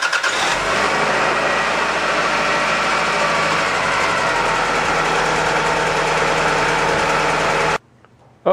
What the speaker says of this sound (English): Now, let's see if it starts the car.